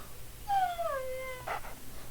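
A video game dog in the Moon: Remix RPG lets out a single drawn-out, falling whimper, clear and close, followed by a brief muffled rustle.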